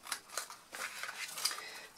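Scissors snip through a cardboard box template in a few quick, quiet, close cuts, with soft rustling between the snips.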